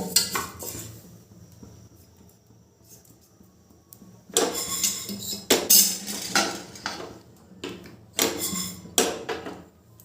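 A pressure cooker lid is fitted and locked shut over dried rice for a puffed rice (muri) experiment: scattered metallic clanks, scrapes and clicks, with quiet stretches between bursts of handling.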